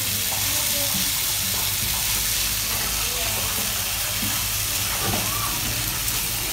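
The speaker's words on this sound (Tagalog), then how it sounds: "Nagigisa." Vegetables for a Filipino monggo (mung bean) dish sizzle and fry steadily in a pan, a continuous close hiss with stirring scrapes, while a voice talks faintly in the background.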